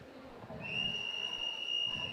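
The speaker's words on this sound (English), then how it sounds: "Whistle the starter calling them to their starting blocks." At a national school track and field championship, the starter blows a long, steady whistle that calls athletes to their blocks. It sounds distant and sustained over faint stadium crowd murmur.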